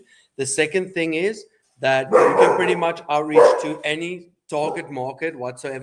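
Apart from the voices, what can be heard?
dogs barking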